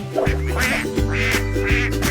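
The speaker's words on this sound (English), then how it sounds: "quack, quack, quack. Hear them quacking back." Cartoon ducks quacking in a children's nursery rhyme about five little ducks, a steady series of loud nasal quacks over a bouncy musical backing.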